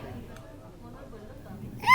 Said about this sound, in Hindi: शबरी को हिचकियां आ रही हैं